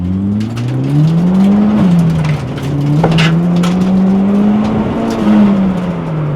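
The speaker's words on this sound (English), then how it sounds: "That may have just been the rev limiter I was bouncing off of." A budget turbo K20-swapped Honda Civic EG at a drag racing event holds high revs near its rev limiter, its loud, close engine drone wavering up and down for several seconds, with no talk.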